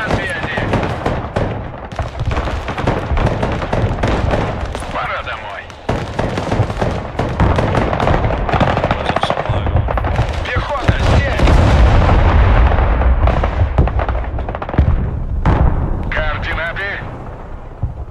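Heavy bombardment and artillery blasts in the real-time tactics game Broken Arrow, a dense run of booms and crackling impacts rolling on almost nonstop, with deep rumble swelling midway, while a voice talks over the battle at times.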